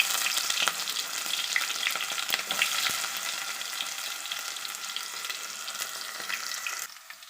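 Onions sizzle and crackle steadily in hot oil while making pepper chicken fry, a dense frying hiss with occasional stirring scrapes, and no voices.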